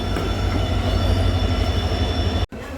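A train locomotive rumbles steadily nearby at Nilambur station with a low mechanical hum and faint rail noise, continuous and fairly loud, briefly cutting out near the end.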